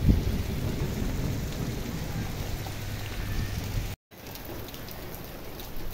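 Heavy rain pours steadily and close, a dense broadband wash with rumbling low end, broken by a brief dropout near the end before the downpour resumes.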